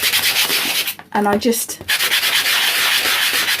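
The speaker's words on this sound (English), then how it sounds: "So the way I got round that was to use a sanding block." Sanding block rubbing over dried acrylic paint on a craft tag, a steady close scraping hiss that breaks briefly for a few spoken words before resuming.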